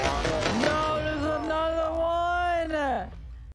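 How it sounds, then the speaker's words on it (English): A video game character lets out a long, loud scream with a strained, wavering pitch that rises and then drops off sharply, lasting about three seconds against background game noise. "As you heard, he screamed right now"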